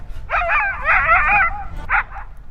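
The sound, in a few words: dog barking and whimpering in water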